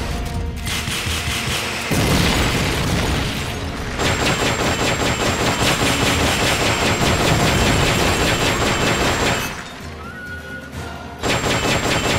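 Rocket launcher fire in the Metal Gear Solid: Peace Walker video game, a loud, dense barrage of blasts with mechanical whirring that runs almost continuously, briefly dropping off near the end before resuming.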